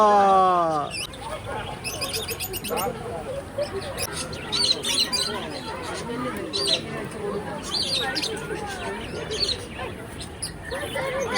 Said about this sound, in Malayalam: ഒരു തത്തമ്മ